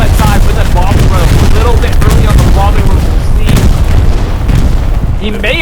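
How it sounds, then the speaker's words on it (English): Loud bombing-run explosions and heavy gunfire from the Hell Let Loose war game, with deep booms and crackling shots arriving in dense overlapping bursts. "We got a bombing run from Lucky as well"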